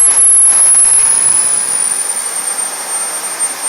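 Small jet turbine engine running up to high RPM, giving a loud, steady high-pitched whine and roar that holds throughout, easing slightly toward the end.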